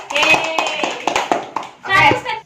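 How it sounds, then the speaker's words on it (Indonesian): A school class applauds a student during a micro-teaching lesson on fungi classification, with several quick bursts of close hand clapping mixed with children's voices. "tepuk tangan untuk Evelyn"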